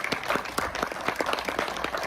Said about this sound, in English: give Jane a round of applause